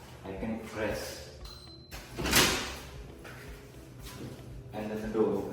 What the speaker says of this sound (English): and then the door opens